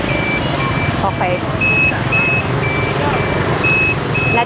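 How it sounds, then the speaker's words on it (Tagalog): Busy Hanoi street traffic roars steadily while a truck's reversing alarm beeps in a regular repeating rhythm, with horns and engines mixed in and people talking nearby. "Look at the traffic, guys."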